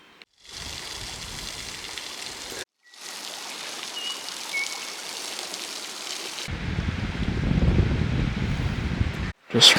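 A river flows through broken Canterbury back country, giving a steady broadband rush with two short breaks. The roar grows louder and deeper toward the end, with some wind noise.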